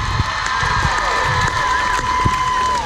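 A concert crowd at a show in Noblesville, Indiana cheers and whoops, a dense, steady roar of voices with some clapping, loud and continuous throughout.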